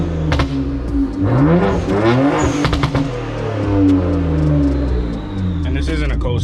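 A warm BMW car engine runs steadily, not from a cold start, its pitch rising and falling through repeated revs, close and loud with a deep rumble.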